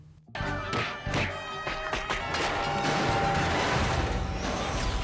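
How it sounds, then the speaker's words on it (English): Cartoon cars swerving in a street brawl crash and explode, a sudden loud smash followed by a dense, continuous roar of crashing and blasts that builds and stays loud, with no talking. "Cars swerving to avoid the brawl end up crashing and exploding left and right."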